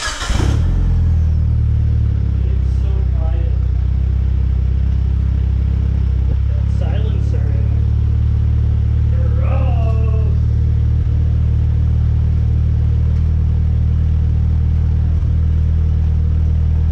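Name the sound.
car engine running with repaired welded exhaust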